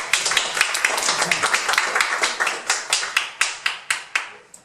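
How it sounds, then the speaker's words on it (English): Applause from a small audience at an Agora Singapore Speakers club evening, individual hand claps distinct and rhythmic, thinning out to a few spaced loud claps near the end, with faint voices underneath. "Let's give him a round of applause."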